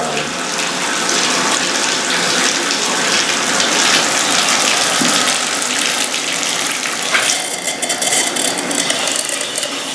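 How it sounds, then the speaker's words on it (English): A shower runs in a badly tiled stall, water spraying and splashing in a dense, steady hiss close by for the full ten seconds with no talking. "Now let's turn the shower on."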